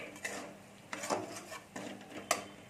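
A spoon scrapes and clinks against a pan while spices are stirred and fried for masoor dal tadka, three or four soft knocks and scrapes at an easy rhythm, quiet and close.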